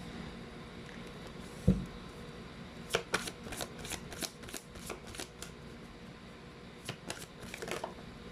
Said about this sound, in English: Let's pull up some fortune reading cards.